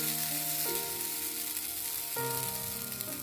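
Mixed dal and rice appe frying in oil in an appe pan, a constant close sizzle heard under steady background music with no talking.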